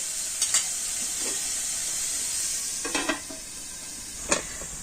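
Mixed vegetables for a savory bread filling sizzle in a pan with a steady bright hiss, broken by a few scraping stirs of a spatula, close and loud throughout.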